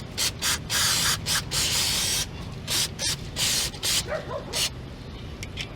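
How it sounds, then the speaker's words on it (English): Bursts of aerosol brake cleaner hiss onto a Dodge Caravan brake caliper, several loud sprays of varying length with brief pauses between, close up, no talking. "I'm going to spray this down"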